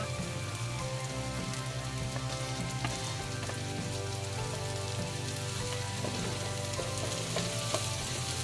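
Onions and long green chilies sizzling in hot oil in a pan for bangus sisig, a steady, close crackling fry that runs evenly throughout with no talking.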